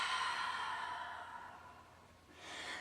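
A person exhales through the mouth during a bodyweight workout stretch, a long breathy sigh fading out, followed by a softer breath.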